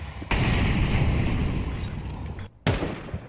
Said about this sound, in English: Apex finds Blitz with their nade.